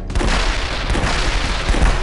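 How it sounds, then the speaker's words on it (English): Explosions and gunfire from The Last Stand 2, a zombie-survival game, erupt as a dense, loud, continuous barrage of booms and crackling blasts lasting about two seconds, with no talking. "This is gonna be a big explosion"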